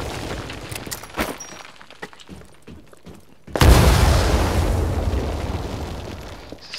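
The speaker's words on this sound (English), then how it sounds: "you actually aim to throw the grenade" A grenade goes off in the video game Titanfall, a sudden loud blast with a long rumbling decay that fades over several seconds, after some faint clicks and small pops.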